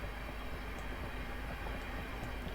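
Class 456 electric multiple unit, coupled with two Class 455s into a ten-coach train, running in Train Sim 2020 on the London Waterloo to Hampton Court line; steady, close low rumble of the moving train with no talk.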